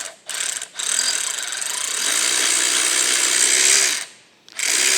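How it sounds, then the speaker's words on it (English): A Monarch lathe turns while a reamer lightly cuts a hole, a steady mechanical whirring hum with a faint ratcheting texture that cuts out briefly at the start and again near the end. "Since I've got this reamer set up already, I'm just going to ream it just real lightly."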